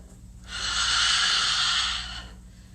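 A single slow, audible breath rushes in or out through the nose and mouth, close to the listener, swelling smoothly and fading over about two seconds during a quiet stretching pose.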